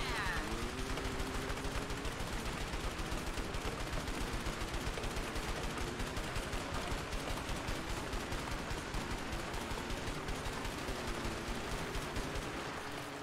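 Enemy gunfire in the A Way Out video game crackles nonstop as rapid, dense automatic bursts over a steady bed of game music and engine-like drone, with the shooting loud and continuous throughout.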